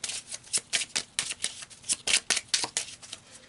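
Tarot cards being shuffled and pulled in quick, sharp riffling bursts, close and crisp, about a dozen rapid snaps over a few seconds with no talking.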